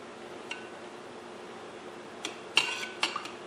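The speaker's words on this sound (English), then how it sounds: "So go ahead and stir that up really good." A spoon clinks lightly against a bowl a few times while stirring, with soft scattered taps over quiet background.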